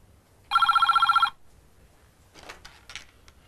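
A telephone bell rings in one short, rapid trilling burst, loud and close, then gives way to near silence with faint rustling.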